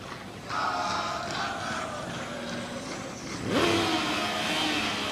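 A Formula Student race car without aero runs the skidpad at a competition event, its engine note rising and falling as it drives, with a stronger surge near the end and a crowd murmur behind.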